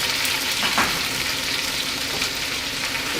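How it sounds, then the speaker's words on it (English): Onions and beef sizzling steadily in a hot pot, a dense, loud crackling hiss close by, with no talking. "There we are, sizzling away."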